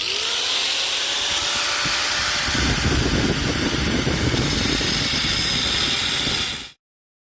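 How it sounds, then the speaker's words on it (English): A grinder dresses metal on the body of a 1972 BBC Nova kit car, a loud, continuous whine that runs near and steady for several seconds and then stops abruptly. "Obviously need a little bit of cleanup work with the grinder"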